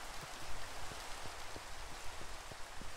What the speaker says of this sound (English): It's raining now, god damn it.